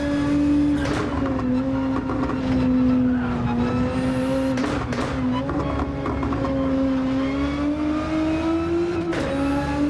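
A Nissan GT-R race car in Gran Turismo, its engine holding a steady droning note with shifting pitch and brief tire scrub, loud and continuous throughout.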